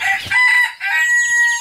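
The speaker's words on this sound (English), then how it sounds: "I have 2 turkeys in here." Two big farmyard turkeys call from inside a coop, a loud, close, warbling series of calls broken by a brief pause, with no talk.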